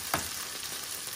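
Beetroot leaf, stalk and oat patties frying in butter in a pan, a steady close crackling sizzle with a brief stirring scrape at the start, no talking.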